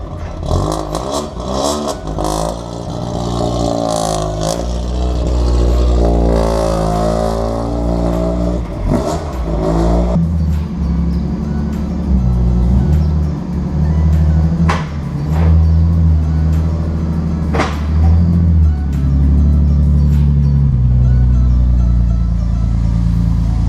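Track cars are driven out, with engines revving and rising in pitch as they accelerate, then settling into rough, loud running with scattered clatter and knocks nearby.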